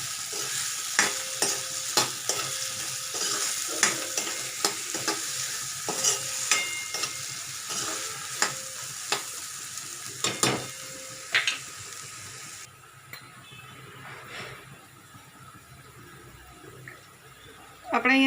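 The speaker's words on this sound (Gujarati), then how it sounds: "રીંગણાને આપણે તેલમાં જ પકાવીશું" Eggplant pieces fry in oil with a steady sizzle while a spoon stirs and scrapes the pan in repeated rhythmic strokes, the hiss easing lower near the end before a final clatter.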